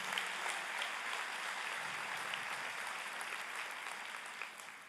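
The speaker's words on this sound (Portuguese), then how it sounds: "Aplauda, Senhor." Steady, faint applause from a church congregation, an even patter of clapping that continues without pause.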